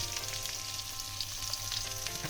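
Rohu fish pieces fry in oil with salt and turmeric, giving a dense, continuous sizzle with faint crackles and pops, close and steady throughout, with no voices.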